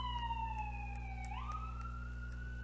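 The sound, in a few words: ambulance siren going by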